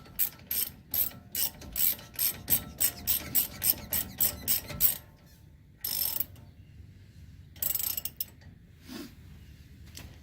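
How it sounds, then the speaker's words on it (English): A 1/2 inch socket ratchet works on the caliper bracket bolts of a Ram during a 2.5 leveling kit install: a close run of quick, regular ratcheting clicks in bursts, then a pause and a few scattered louder clicks and clunks. "You can get away with a 1/2 inch socket, and then you pry them loose."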